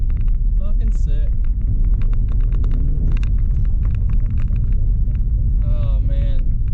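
A Mitsubishi 3000GT VR4 driven for the first time in many years, rusty brakes and all, with a rough, heavy low engine rumble running steadily and close, while someone talks over it.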